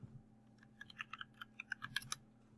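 A computer keyboard clicks in a quick, irregular run of about fifteen sharp key presses, close and fairly quiet, with no talking.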